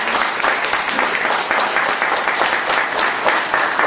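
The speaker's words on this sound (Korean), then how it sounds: "김세현 박사님께 다시 크게 박수 드리겠습니다" An audience applauds speaker Dr. Kim Se-hyun, producing a loud, dense, sustained wash of clapping from many hands that holds steady throughout.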